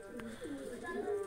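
Domestic pigeons cooing softly at a rooftop coop in rain, low throaty rolling coos repeated in a gentle rhythm, fairly faint and close by.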